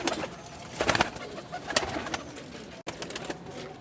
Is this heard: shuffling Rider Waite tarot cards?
no